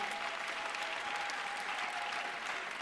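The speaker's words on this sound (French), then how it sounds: "Applaudis le Seigneur des Seigneurs" A congregation claps at a mass prayer service, a steady, even wash of applause heard from a distance and fairly faint, with a thin sustained tone running underneath.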